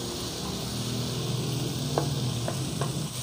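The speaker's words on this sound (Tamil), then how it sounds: "இப்போ மசாலா எல்லாம் நல்லா வதங்கிட்டுது" Masala fries in oil for a Jaffna-style mutton curry, giving a steady close sizzle broken by a few short scraping stirs.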